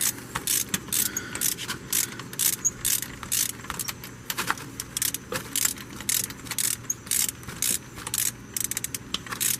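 A ratchet clicks rapidly and repeatedly as it turns the bottom downpipe nut on a Duramax LB7 diesel truck, a dense close-up pawl chatter with small metallic knocks running throughout and no voices.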